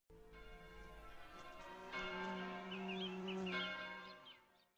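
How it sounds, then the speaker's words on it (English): Bells opening the song, a sustained ringing tone with layered overtones that swells in after a second and holds steady with faint bird-like chirps above, fading out near the end. "The song begins with bells and tubular bells."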